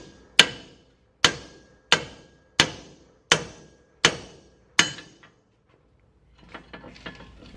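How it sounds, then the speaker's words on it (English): Seven sharp, evenly spaced metal hammer blows drive a pickle fork into a car's tie rod end, ringing close and loud, followed by a pause and faint rattling and shuffling. "drive this pickle fork as far in as we can hammer it, and if that doesn't pop it out, we'll hit down on it."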